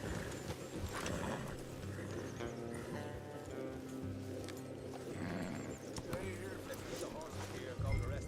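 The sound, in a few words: horses in the video game Red Dead Redemption 2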